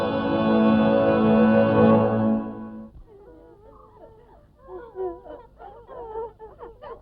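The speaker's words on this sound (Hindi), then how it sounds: "भूख के मारे सारे बच्चे रो रहे हैं" In a Hindi action movie, hungry children cry. A long, loud, wavering wail comes first, then softer, broken sobbing whimpers follow.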